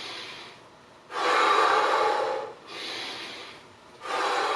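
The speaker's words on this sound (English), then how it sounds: "Big inhale, big exhale." Deep breathing during a bodyweight workout: big, close, airy inhales and exhales alternating at a slow, even pace with nothing else heard.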